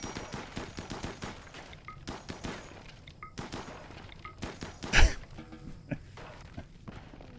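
Assault rifle fire in the game RimWorld comes as rapid, repeated sharp cracks in irregular bursts, moderately loud. One sharper, louder shot stands out near the end.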